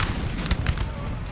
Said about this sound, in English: they're still firing at my infantry